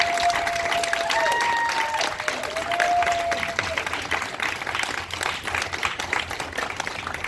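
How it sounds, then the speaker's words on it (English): Steady applause from a crowd at a county Teacher of the Year award event, moderately loud and continuous, with faint voices and a few tonal sounds mixed in early. "I think that's deserving of a rich and robust applause."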